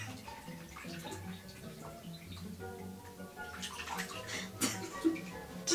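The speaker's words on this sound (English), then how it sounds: "what could make this bath experience better? Bubbles. This is now a bubble bath." Water running and splashing into a bathtub as a bubble bath is prepared, a continuous wash of churning water with a few sharper splashes and drips near the end, close and fairly loud.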